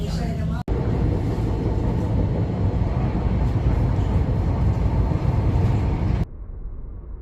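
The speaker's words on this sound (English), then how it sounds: "I'm going to get this tram back now, back to the city centre." A tram rolls through Rotterdam in a continuous loud, broadband rumble of wheels and motor, with a brief cut near the start and the noise dropping away near the end.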